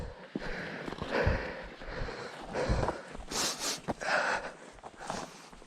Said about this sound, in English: Sorry for all the sniffling.